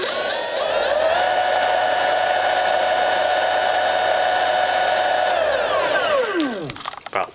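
A Transmagnetics 3kW electric motor spins up to speed with a rising whine that settles into a steady, loud high-pitched hum, then winds down with a falling tone near the end.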